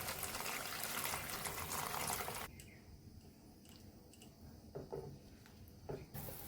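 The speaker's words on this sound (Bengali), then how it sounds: "এবারে আমি গরম জলটা দিয়ে দিচ্ছি" Hot water poured into a pan of spices fried in oil for a paneer curry makes a loud, rushing sizzle for a couple of seconds, then settles into soft bubbling with scattered pops.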